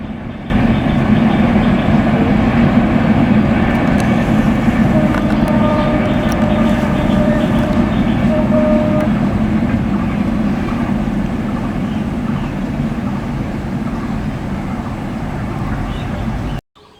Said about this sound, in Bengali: বাড়ির সামনে দিয়ে ট্রেন যাচ্ছিল দেখুন বাড়ির সামনে দিয়ে যখন ট্রেন যায় তখন দৃশ্যটি দেখতে কেমন লাগে